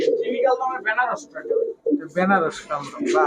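Pakistani high-flyer pigeons coo in low, rounded notes, mixed in with someone speaking nearby.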